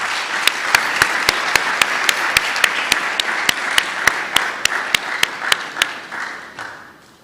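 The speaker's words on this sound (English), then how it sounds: "Let's give him a round of applause." An audience at a memorial lecture applauds: dense, steady clapping with rhythmic accented claps running for about six seconds, then fading out near the end, with no talk over it.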